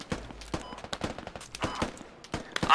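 A heavy video game firefight at Talil Outskirts, with rapid bursts of automatic gunfire and sharp single shots cracking close in an irregular, dense rhythm.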